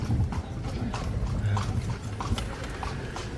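Hooves of a carriage horse clip-clop steadily and close by on a horse-drawn carriage ride at Wat Phra That Lampang in Thailand, a continuous walking rhythm with no talk over it.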